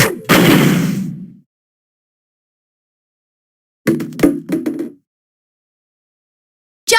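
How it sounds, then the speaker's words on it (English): A heavy explosion booms and rumbles for about a second as it shatters ice on a door in Nine Hours, Nine Persons, Nine Doors, followed after silence by a cluster of sharp knocking impacts and a final abrupt bang. "The blast must have shattered it."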